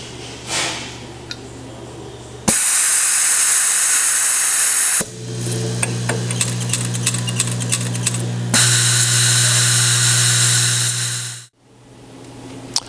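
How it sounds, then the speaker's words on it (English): A Norfield Eagle screw feeder blows screws through its hoses with loud bursts of compressed-air hiss, separated by short gaps and a stretch of rapid clicking as the screws rattle through. "it'll blow the screws out of the hoses that are already there into the head"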